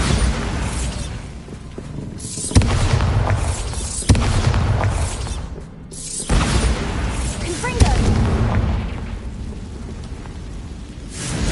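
Bombarda spell blasts in Hogwarts Legacy go off as heavy booming explosions, loud and close, several sharp bursts spaced every couple of seconds over a continuous rumbling roar.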